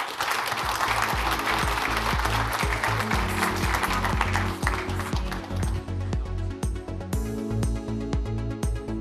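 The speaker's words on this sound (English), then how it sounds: "A huge round of applause." A summit audience breaks into a loud round of applause after a panel discussion, dense continuous clapping that thins out toward the end, with some background hum beneath.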